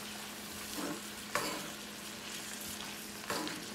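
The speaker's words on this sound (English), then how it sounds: "because you're frying it in that oil" Steady sizzling of corn, red and green bell pepper frying in oil in a skillet, with a couple of brief scraping stirs of a utensil in the pan.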